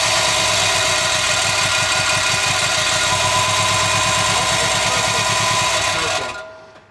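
A Subaru WRX STI engine idles roughly with an uneven, loping pulse and a steady loud drone, close to the car, running alone for about six seconds before cutting off abruptly.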